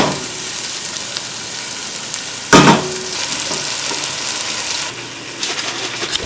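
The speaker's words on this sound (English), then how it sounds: "This way it fries and gets in the oil and the onion." Eggplant sizzles steadily in hot oil with onion for a caponata, a dense close crackle with one sharp clatter of stirring partway through.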